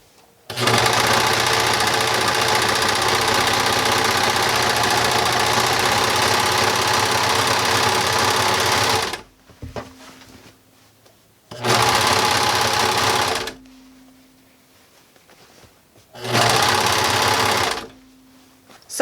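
A sewing machine stitches a fitted skirt seam in three bursts: one long continuous run, then two shorter runs separated by pauses, loud and close with a steady mechanical whir and no speech.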